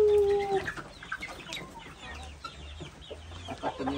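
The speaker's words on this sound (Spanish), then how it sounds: "Por las gallinas, acá están." Several chickens cluck and murmur nearby, short irregular calls overlapping one another against a quiet farmyard background.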